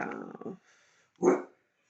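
A pet dog indoors gives a single sharp bark, close and fairly loud, right after a voice fades out.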